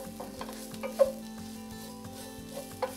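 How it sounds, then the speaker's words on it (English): Cumin and oregano roast in oil in a pan for a vegan black bean and sweet potato mix, with a soft, steady sizzle broken by several scraping stirs and light knocks. "So then we're gonna mix this around and have that roast in that oil a bit."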